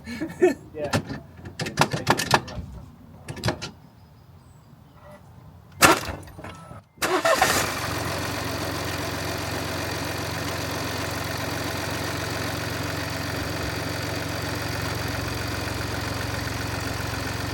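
A BMW Mini F55 with a 1.5 diesel engine cold-starts after a few door and cabin clunks amid brief talk, then settles into a steady, loud idle with an even rumble for the remaining ten seconds.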